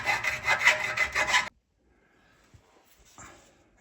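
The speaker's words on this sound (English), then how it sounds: "file the inside of the holes to make sure you can pull the top of the wheel outward." A metal file rasps inside a bolt hole on a Volvo P3 rear suspension, a loud, rapid back-and-forth scraping for about a second and a half, then near silence broken by a couple of faint taps and a brief rustle.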